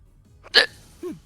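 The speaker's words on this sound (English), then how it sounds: "Oh, excuse me, I have the hiccups." A game character from The Legend of Heroes lets out a single sharp hiccup, followed a moment later by a softer, falling vocal squeak, close and clear over a quiet background.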